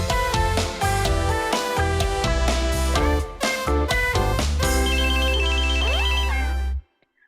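Bright electronic phone ringtone melody plays loudly and alone for several seconds, with layered synth tones and a rising arpeggio near the end before cutting off abruptly to silence.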